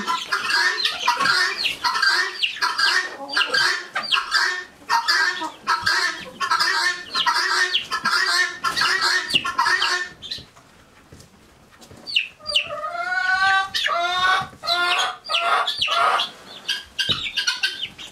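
Chickens in a cold-weather chicken coop cluck and squawk in rapid, busy bursts up close, with a brief lull before rising calls and wing flapping.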